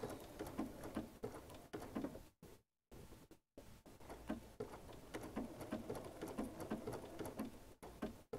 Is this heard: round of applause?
no